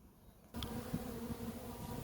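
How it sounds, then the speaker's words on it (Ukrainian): A swarm of honeybees buzzes close by at a water feeder, a dense steady hum that starts abruptly and keeps going, with individual insects droning past. "Ось так бджола працює на поїлишці"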